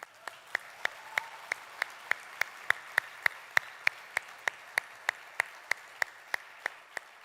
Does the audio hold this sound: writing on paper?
no